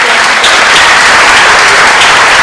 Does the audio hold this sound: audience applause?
yes